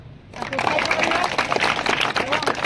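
An audience applauds students at a tuition centre event celebrating exam results, a burst of dense clapping starting abruptly after a brief quiet moment and continuing strongly to the end.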